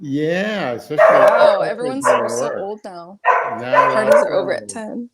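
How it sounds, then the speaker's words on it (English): A dog barks and yips several times nearby, mixed in with people chatting over a call. "Oh, that's my dog."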